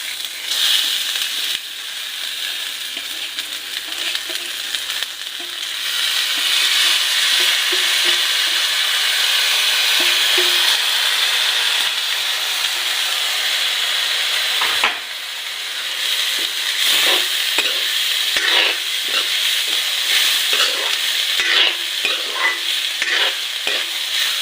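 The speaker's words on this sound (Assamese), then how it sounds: "এতিয়া বৰা চাউলখিনি ভাজি ল'ব টাইম।" Bora rice frying and being stirred in a pan, a loud, close, continuous sizzle with scraping stirs throughout and no talking.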